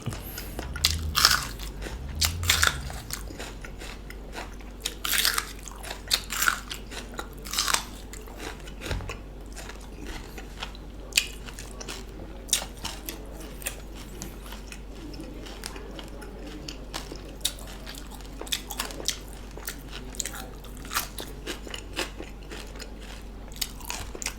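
Close, crisp bites and crunchy chewing of a heap of crispy fried pork belly, repeated crackling crunches at an uneven rhythm, with no talk over them.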